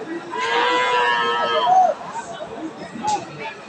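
A Holstein Friesian cow at a cattle market lets out a long, close moo that rises and then drops off, with crowd chatter and other livestock noise around it.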